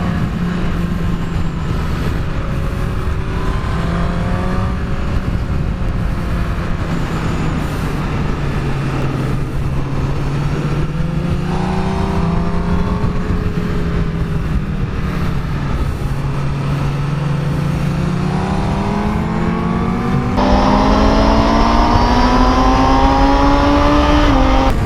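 A 2017 Honda CBR1000RR Fireblade SP1 engine revs loud and close, its pitch climbing and falling through several throttle sweeps and rising sharply near the end, with no talking.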